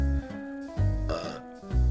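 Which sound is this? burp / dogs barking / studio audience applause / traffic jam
burp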